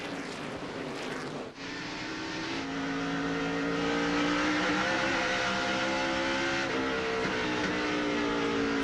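NASCAR Busch Series race cars roar around the Bristol short track in a 2001 race, a loud continuous engine drone with rising pitch as cars pass and accelerate, heard alone without talk.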